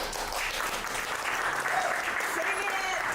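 Audience clapping at a poetry reading in Chinatown, dense steady applause from a close crowd throughout, with some voices mixed in.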